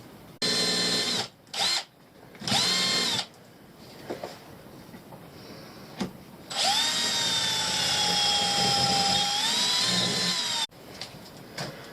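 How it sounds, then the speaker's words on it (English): A power drill bores holes in a metal keel band on an Orkney Fastliner 16 boat during a refit, with several short whining bursts followed by a long steady drilling run of about four seconds, close and loud. "Okay, so now I need to drill some holes"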